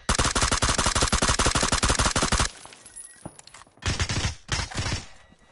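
Gunfire in the PUBG video game on the Karakin map: a dense, loud burst of rapid automatic fire lasting a couple of seconds, then a few scattered single shots and thuds.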